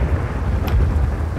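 Thunder in Max Payne 2 rolling as a loud, deep, continuous rumble with a brief brighter crackle partway through, and no voices.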